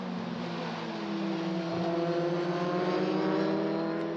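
Euroformula race cars at the Mugello circuit scream past with a rising, sustained high-pitched engine note that swells louder toward the end, heard alone without talk.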